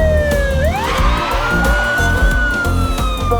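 Wailing emergency siren of an ambulance closing in from behind a car, loud and rising in pitch, then holding a steady high wail over a rumbling low background.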